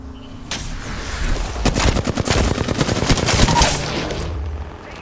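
Rapid automatic gunfire in the battle royale game Apex Legends, a close, loud string of sharp shots firing in quick bursts that swell and then taper off, with no talking.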